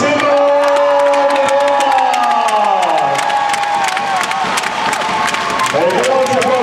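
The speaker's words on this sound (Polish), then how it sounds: "Wielkie brawa dla Szymona" A volleyball arena crowd at a PlusLiga match between Cuprum Lubin and AZS Politechnika Warszawska cheers, whoops and claps loudly for the best player, a dense roar with shrill voices and whistle-like tones rising through it.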